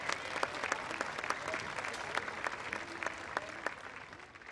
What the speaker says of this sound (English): How about a little hand clap?